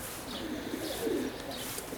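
Young pigeons in a pigeon loft give soft, low cooing, faint and muffled beneath a hissy background.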